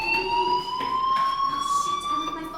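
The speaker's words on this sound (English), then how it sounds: "Hey, do you hear that fire alarm?" A school fire alarm in the video game Life is Strange rings steadily, its high pulsing electronic tone going on without a break throughout.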